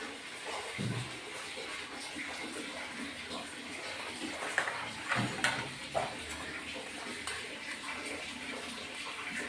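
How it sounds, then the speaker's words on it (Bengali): Water sloshes and splashes in irregular bursts as rohu fish are rinsed and handled in a basin, with a few louder splashes along the way. "মাছগুলি ধুয়ে নিচ্ছি"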